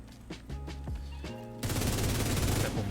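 Video game gunfire, a few tonal weapon shots in a rhythmic pattern, then a loud, dense stream of rapid firing filling the last second and a half.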